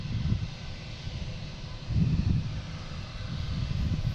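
A British Airways plane takes off at Boston Logan International Airport, its engine roar a low, rumbling drone that swells in waves from a distance, with no talking.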